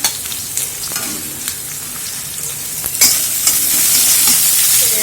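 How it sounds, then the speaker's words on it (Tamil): Onions sizzle steadily in a hot pan close by, with occasional stirring scrapes and a brightening hiss toward the end. "ஃபர்ஸ்ட் நம்ம வெங்காயத்தை வதக்கிக்கலாம்."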